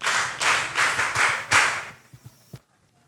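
A small audience claps in a few strong bursts, then the clapping thins to scattered single claps and stops, close and clear in a room.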